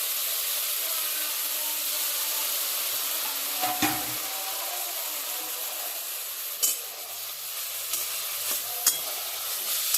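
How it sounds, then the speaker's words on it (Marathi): Dill greens are stir-fried in oil with salt, chutney and turmeric, giving a steady frying hiss broken by a few scraping, clattering stirs of the spoon against the pan. "तेल, मीठ, चटणी, हळद या संपूर्ण वस्तूमध्ये ही भाजी परतून घ्यायची."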